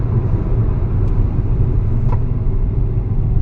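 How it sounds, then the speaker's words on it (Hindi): Hyundai Verna sedan braking from 90 in fifth gear on an open road, a steady loud low rumble of engine and road noise throughout, with faint brief squeaks near the end and no talking. "पांचवा गियर, ब्रेकिंग एट 90"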